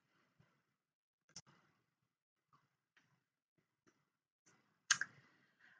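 A computer mouse gives a few sparse, quiet clicks while the Park Hill portal is navigated, with one sharper click near the end in an otherwise silent room.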